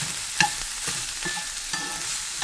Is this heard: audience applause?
no